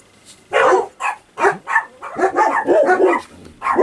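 Several dogs bark in a rapid, excited burst of close yaps and woofs, a string of around eight sharp barks with short gaps between them, loud and without talk.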